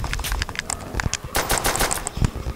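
Rapid gunfire in the Call of Duty: World at War Nazi Zombies game on the Der Riese map, a dense burst of sharp shots in quick irregular succession, loud and close with no talk.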